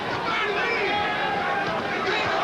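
Crowd noise at a professional boxing bout between Mark Johnson and Raul Juarez, a dense continuous roar and babble of many voices filling the arena, steady and loud throughout with no pauses.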